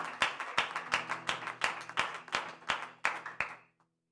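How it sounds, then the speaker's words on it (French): A church congregation claps hands together in praise of the Lord, with about eleven sharp, evenly spaced claps in a steady rhythm before the clapping stops. "Let's clap our hand for the Lord Jesus Christ"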